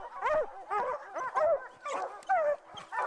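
Hunting dogs used for boar and bear hunts in Alberta bark in repeated bursts, a series of loud yelping barks in close succession with short gaps, heard alone.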